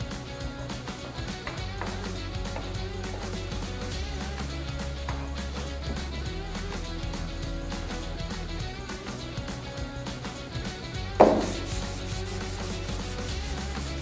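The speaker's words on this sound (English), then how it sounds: "So at this point, I'm sanding the Dolphin Speed Glaze" Steady rhythmic rubbing of sandpaper over U-POL Dolphin Speed Glaze body filler continues under background music, with a sharp knock near the end.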